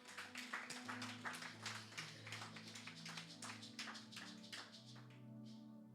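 A church congregation claps in praise during a sermon, a steady rhythmic patter of hands that stays faint and distant over a low sustained musical backdrop.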